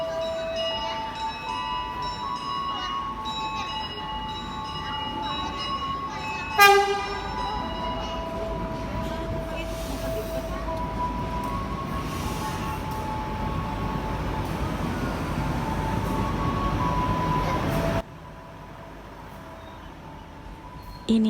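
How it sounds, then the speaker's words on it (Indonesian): A passenger train pulls into Solo Jebres station in Indonesia, with a station chime melody, a loud horn blast, and a long rumbling, screeching approach of rolling cars that stops abruptly. "akhirnya kereta api biasnya datang"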